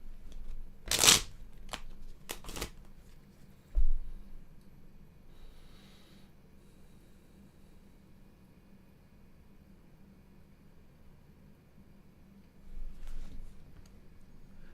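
A deck of cards is shuffled in a few short, crisp riffles near the start and again near the end, with near-silence in between.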